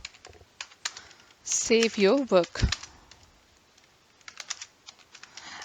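Rapid clicks of typing on a computer keyboard patter close by, broken midway by a short stretch of speech, then light scattered keystrokes resume.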